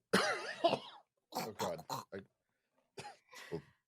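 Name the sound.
imitated cough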